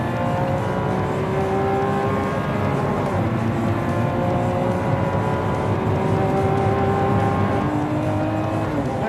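A Lamborghini Centenario's naturally aspirated carbon-bodied V12 drives on the road, heard from inside the cabin as a loud, continuous engine roar with rising and shifting pitch through the gears, with no talking.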